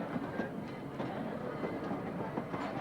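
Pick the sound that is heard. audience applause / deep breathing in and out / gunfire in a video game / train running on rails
train running on rails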